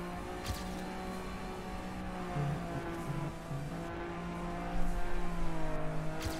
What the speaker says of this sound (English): Imagine wiggling rally car.